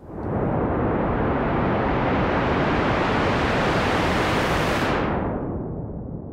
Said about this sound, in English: Waves crashing synthesized.wave.